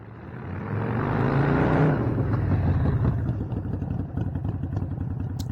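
A motorcycle slowing under front brakes only from a set speed, its engine note loud and close, droning steadily then easing down with a faint rattle as it comes to a stop.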